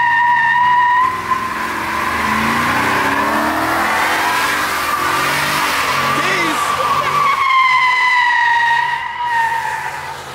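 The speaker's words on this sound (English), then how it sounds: "Good burnout, dude." A car does a burnout with a loud, sustained tire squeal and revving engine nearby, continuous for about ten seconds with a brief dip, while people shout faintly in the background.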